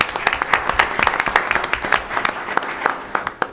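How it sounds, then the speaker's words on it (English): Dense applause from a sizable crowd, steady and loud throughout with overlapping claps and no talking. "Another round of applause for Chris."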